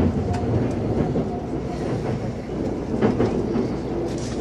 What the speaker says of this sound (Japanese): welcome aboard the Tokiwa Limited Express bound for Katsuta.